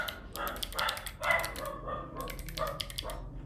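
Several dogs bark and yip indoors in repeated short bursts at moderate loudness, fairly close, with a few softer whimpering yelps between them.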